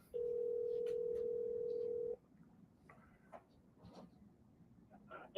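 A steady two-second telephone tone on an outgoing call that then drops away to faint clicks and background noise.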